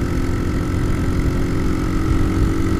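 A motorcycle with a Scorpio aftermarket exhaust and aftermarket header idles steadily on its carburetor, a loud, close, even low rumble that holds without change, with no talking.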